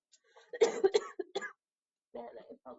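A few short, harsh coughs burst out close by, followed by a brief pause and another rough cough.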